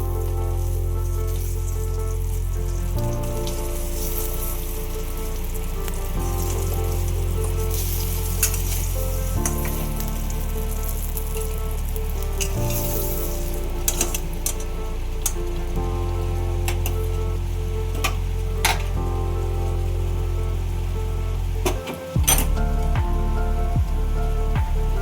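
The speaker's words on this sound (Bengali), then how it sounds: "এইবার বেগুনগুলো আমি ভেজে নিচ্ছি, লাল লাল করে বেগুনগুলো ভেজে নিচ্ছি।" Eggplant slices fry in hot oil in a pan, giving a steady, loud sizzle that runs without a break, with a few sharp spits and pops and one brief dip near the end.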